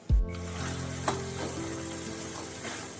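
Pumpkin chutney sweetened with jaggery stirred in a pan, a steady close sizzle with scraping strokes of a spoon after a sharp knock at the start, no voices.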